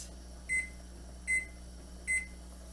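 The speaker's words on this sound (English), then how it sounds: "we're going to set the timer for" A kitchen timer being set while pork boils for canning beeps three times in evenly spaced, short bright tones over a steady low appliance hum, close and moderately loud.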